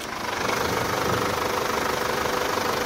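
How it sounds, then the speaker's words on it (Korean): A used seven-seat car's engine idles steadily up close with the hood open, a continuous low rumble with a faint ticking knock, no voices. "지금 바로 엔진 소리 한번 자세하게 들려드릴게요."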